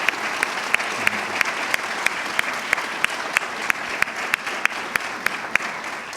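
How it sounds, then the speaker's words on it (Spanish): An audience at a journalism talk gives sustained, even applause to welcome the guests, with crisp claps filling the whole stretch. "les pido de inmediato un caluroso aplauso para que se sientan en casa"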